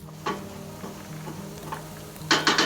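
Tomatoes tossed into a hot pan for a tomato sauce, a soft sizzle with a few scraping stirs and a brighter burst of frying near the end, heard up close with no talking.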